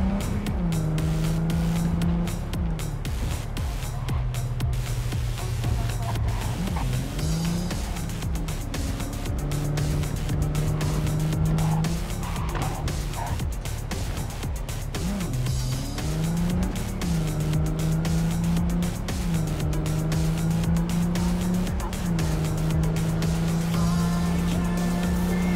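A car drives in the game Cyberpunk 2077, its engine droning loud and steady throughout, pitch rising and dropping repeatedly as it accelerates and shifts, with occasional tire noise and no speech.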